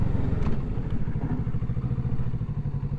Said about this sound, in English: we want to get the motorcycle in 2nd gear up to 20 miles per hour, and then stop and get it back into 1st